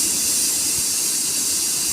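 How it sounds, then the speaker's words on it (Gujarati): A pressure cooker cooking rice lets off steam in a continuous, loud, steady hiss that fills the whole moment, with no talk. "આપણી પહેલી સીટી વાગી ગઈ છે."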